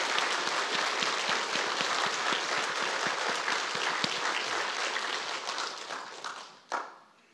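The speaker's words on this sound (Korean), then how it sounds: "영광의 박수를." Congregation applause in a church: dense, steady clapping from a large crowd fills the room, holding loud for several seconds before thinning out and fading near the end.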